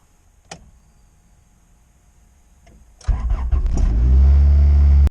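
A click and faint clatter, then a Honda CRX engine cranks and starts about three seconds in, settling into a loud, steady running rumble.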